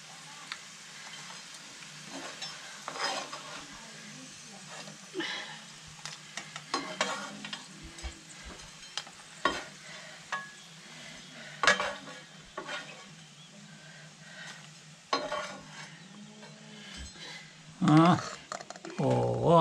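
Food fries in a frying pan with a quiet, steady sizzle and occasional stirring scrapes and utensil clatter in a home kitchen while people talk intermittently.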